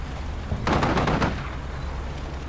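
Gunfire in the Combat Mission Shock Force 2 combat video game sounds as a loud, rapid burst of automatic fire over a dense, rumbling battle background, with heavy low-end noise throughout.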